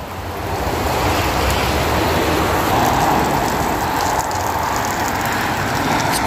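A mountain stream near the Heybrook Lookout trailhead, its flowing water a loud, steady broadband rush with no pause, mixed with some wind noise.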